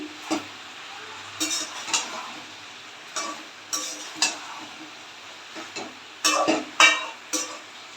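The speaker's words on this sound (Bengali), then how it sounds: "এবার হলুদ দিয়ে দিলাম এবার মাথাগুলো দিয়ে দিলাম দিয়ে ভালোভাবে ঘেটে নেড়ে চেড়ে দিচ্ছি" Fish heads are stirred with turmeric and a little sugar in a pan, giving repeated scraping and clinking strokes at an irregular rhythm over a soft, low sizzle.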